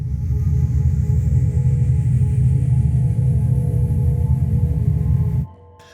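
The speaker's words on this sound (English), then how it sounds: "this is the sound of the mothership" A heavy, futuristic mothership spaceship drones with a loud, dense low rumble and layered humming tones that hold steady for several seconds before abruptly dropping away to a faint hiss.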